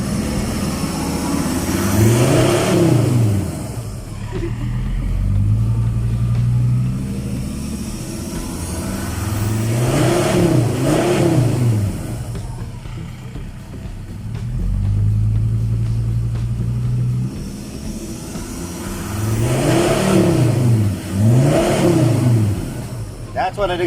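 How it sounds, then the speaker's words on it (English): Ford Ranger fitted with a full exhaust and ECU remap, revving: three deep, throaty rev bursts rise and fall between steady idle stretches, sitting close and loud with some talk in between. "That's what an exhaust is supposed to sound like."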